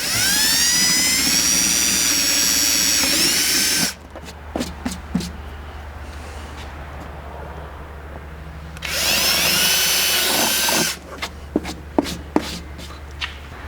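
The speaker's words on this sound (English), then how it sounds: "I've switched out to a 1/4 inch drill bit, and using the two holes that we pre-drilled from underneath as a guide, I'm just going to open those up" A power drill with a 1/4 inch bit enlarges pre-drilled holes in a rear strike bumper on a GX460, running in two sustained high-pitched whining bursts, each followed by quieter handling clatter and clicks nearby.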